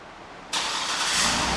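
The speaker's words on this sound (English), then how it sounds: "and the car starts right up." A 2010 Cadillac Escalade ESV is started by remote start. The engine catches abruptly with a loud whoosh and settles into a steady, close idle.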